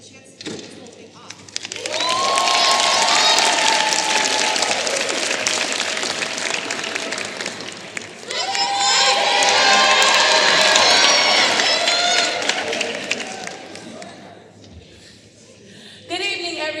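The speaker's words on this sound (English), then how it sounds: "Please don't hold back on your support. We love your applause." A large audience at a school fall play applauds and cheers loudly in two sustained waves, with whoops and shouts rising over the clapping before it fades.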